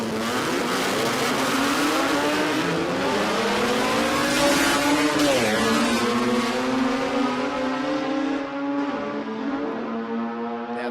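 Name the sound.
naturally aspirated rotary drag race car engine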